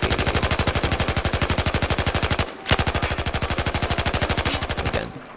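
A light machine gun fires in Battlefield 4 in two long sustained bursts of rapid, evenly spaced shots, loud and close, separated by a brief pause, with no voices.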